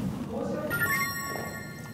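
A telephone rings with a steady electronic trill that starts partway through and holds to the end, over the murmur of people talking in a room.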